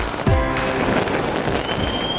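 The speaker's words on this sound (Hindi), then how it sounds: "न्यूजीलैंड में नए साल के आगाज के साथ ही आकाश आतिशबाजी से जगमगा उठा।" New Year fireworks burst over Auckland, New Zealand: a sharp boom opens, then a thick, continuous wash of crackles and distant rumbling explosions fills the air.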